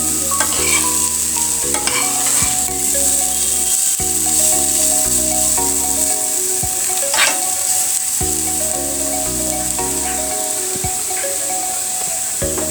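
Carrot and potato bhaji frying in a pan while being stirred, a steady close sizzle with repeated scraping and rubbing strokes of a spatula over the whole stretch, no talk.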